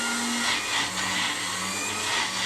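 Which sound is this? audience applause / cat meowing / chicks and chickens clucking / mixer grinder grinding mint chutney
mixer grinder grinding mint chutney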